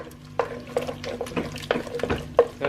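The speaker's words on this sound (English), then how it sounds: "I'm just going to stir this all together and cook this for about 5 more minutes." A spoon stirring chopped tomatoes into a simmering bean and pepper stew in a pot, with soft wet squelches and scraping clicks at an uneven pace, close and moderately quiet, with no voices.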